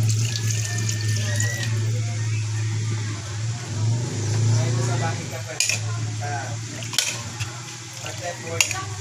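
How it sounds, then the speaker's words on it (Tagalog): Water poured into a cooking pot of chicken tinola runs and splashes over a steady low kitchen hum, with a few sharp clinks of utensils near the end; a voice speaks briefly. "Lagyan na natin konting sabaw,"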